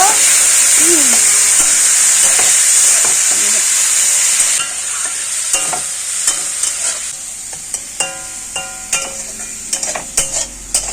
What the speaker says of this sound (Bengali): এখন হলুদ লবণ দিয়ে শুটকি মাছটা মাখায় রাখছিলাম, এইটা এখন ভাজা নিব